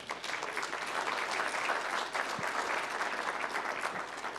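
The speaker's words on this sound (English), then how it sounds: "So you can give him a round of applause." Steady audience applause at the Monnaie de Paris media forum during the World Money Fair 2024, honoring chief engraver Joaquin Jimenez; dense continuous clapping from a moderately sized crowd, even in level throughout.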